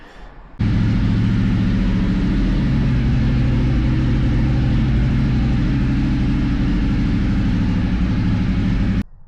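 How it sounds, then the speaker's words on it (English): Ducati 848 motorcycle engine given a small amount of throttle, a loud, steady, close-up rumble starting abruptly after a short quiet moment and holding constant until it cuts off at the end. "on this Ducati 848 here, I give it about that much throttle or that much wrist"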